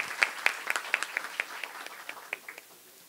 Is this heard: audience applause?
yes